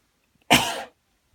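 A voice imitates a cough for a storybook railway controller, one short, fairly loud throaty bark heard alone in otherwise quiet surroundings.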